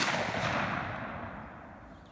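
A shotgun blast rings out loud and booming, then trails off in a reverberant decay over about two seconds.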